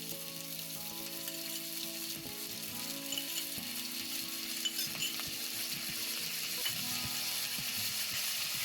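Vegetable noodles with soy sauce stir-frying in a hot pan, a steady bright sizzle with scattered clinks and scrapes of a utensil tossing the food, close and continuous with no talk.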